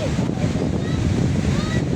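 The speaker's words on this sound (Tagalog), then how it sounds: "Alon nga niya, guys." Steady roar of ocean waves at San Fabian Beach, Pangasinan, with strong wind buffeting the microphone, a continuous wash of noise throughout.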